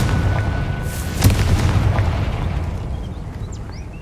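Confringo blasting spell from Hogwarts Legacy, heard as a single sharp explosive boom near the start over a steady rumbling game backdrop, with faint chirping bird-like creature calls toward the end.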